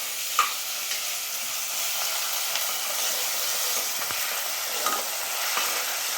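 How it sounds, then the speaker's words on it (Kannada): Ginger garlic paste sizzles and fries with onions in a pan for a snake gourd and chana dal masala curry, a steady hiss broken by a few clinks of stirring, with no talk. "ಈ ರೀತಿ ಈರುಳ್ಳಿ ಜೊತೆಗೆ ಎಲ್ಲ ಮಿಕ್ಸ್ ಮಾಡ್ತಿದ್ದಾರಮ್ಮ, ಶುಂಠಿ ಬೆಳ್ಳುಳ್ಳಿ ಪೇಸ್ಟು"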